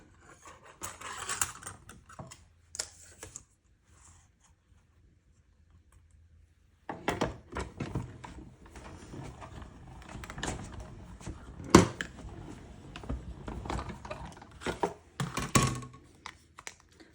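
A quiet tabletop adhesive machine feeds a sheet of cardstock through, making soft clicks, rustles and faint mechanical rattles in irregular bursts after a near-silent pause.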